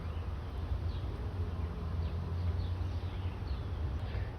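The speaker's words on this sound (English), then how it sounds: "I even have a lavender tucked in back here that the bees enjoy" Bees buzzing around lavender in a home garden, a faint steady insect hum with brief passing buzzes drifting by over soft outdoor background, no one speaking.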